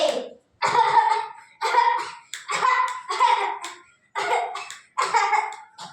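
Repeated harsh coughing during an anti-tobacco street play, about seven bursts in a steady rhythm with short pauses between, close and fairly loud.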